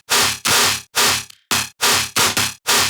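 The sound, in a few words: dubstep FM bass, square wave, monster wavetable, Serum synth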